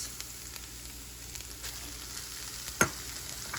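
Rice with pineapple stir-fried in a pan over medium heat, giving a steady low sizzle with a few scraping stirs and one sharp clack of the utensil near the end, no voices.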